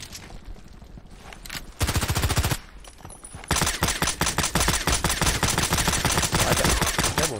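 Rapid bursts of suppressed FN Five-Seven pistol fire in a video game, a short volley, a pause, then a long sustained stream of clipped, evenly spaced shots, loud and close with no voices.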